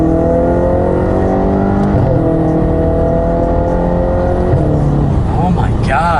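A 2013 Audi RS5 engine revs hard on paddle-shift downshifts, its loud close roar dropping and climbing in pitch with each blipped gear change, heard from inside the car.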